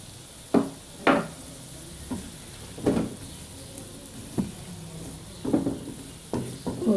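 Three large tomatoes dropped into frying masala for a dhaba-style masala arvi curry, giving a few soft sizzling bursts and scraping stirs at irregular intervals over a quiet low hiss.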